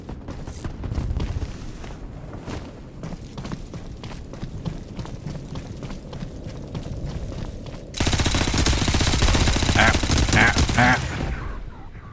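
Sustained gunfire from a cyberpunk shooter: rapid, evenly spaced shots crackle through a busy mix, then a denser, louder burst of firing and impacts takes over for the last few seconds, with voices faintly underneath.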